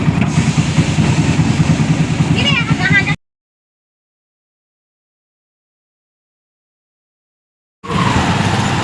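A motorcycle engine runs steadily beneath continuous talk on the streets of Jagraon, cutting to a long silent gap partway through before the engine noise and voices resume.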